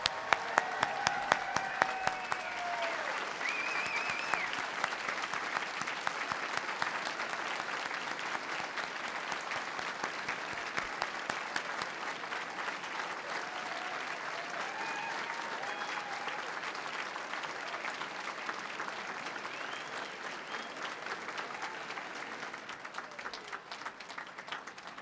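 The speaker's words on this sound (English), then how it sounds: "Let's have one last round of applause for the class of 2017." A large audience at a spring university convocation gives the graduating class a long, sustained round of applause, dense steady clapping that fades slightly toward the end.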